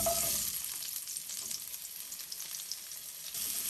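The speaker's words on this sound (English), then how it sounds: "Now to this same oil I will add in my onions" Onions fry in oil in a pan on an Indian home stove, a soft, steady sizzling hiss with light crackle throughout, fairly quiet and with no talking.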